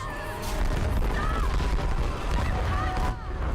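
Video game gunfire and booming blasts from Tomb Raider (2013) rumble loudly and continuously, with dense explosive crackle layered over heavy low-end noise and no clear pauses.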